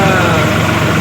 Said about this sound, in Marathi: मग फास्ट ट्रॅक्टर पण चालू आहे जरा